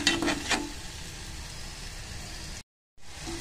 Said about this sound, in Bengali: একটুখানি ভাজা ভাজা করব।